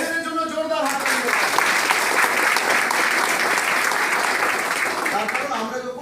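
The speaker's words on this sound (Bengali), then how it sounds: "এর জন্য জোরদার হাত তালি।" Sustained, loud audience applause at a Vestige food-supplement talk, dense clapping rising quickly and holding steady for several seconds before easing slightly at the end, with no speech over it.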